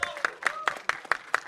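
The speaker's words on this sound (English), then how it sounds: "Can we have a huge round of applause for Anil sir?" Audience at a press meet for the film Animal gives a short burst of applause, sharp claps coming in a quick rhythmic patter, with some voice present underneath.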